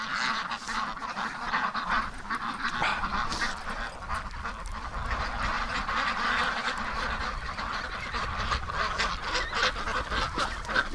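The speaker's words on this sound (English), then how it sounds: "I know the rest of the ducks are crazy outside." Ducks call outdoors during a winter snowstorm, a dense flock of quacks and honks carrying on continuously over wind noise, fairly close and loud.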